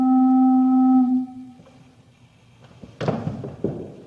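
A stopped flute pipe from a pipe organ sounds one steady, pure low tone for about a second and fades out, followed by faint room noise and a few soft knocks and thumps.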